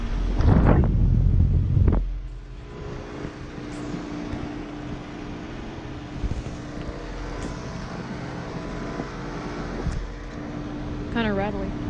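A 2006 Heil 3-ton heat pump runs in heat mode outside a church, its Fasco fan motor giving a steady rattly hum, with louder handling noise at the start and outdoor ambience.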